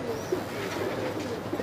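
Bateri pigeons coo in soft, low repeated calls, close by and alone with steady background noise and no talk.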